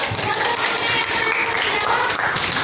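Brief classroom applause at a junior high school in Balikpapan, a short burst of many students clapping together, fairly loud and continuous throughout.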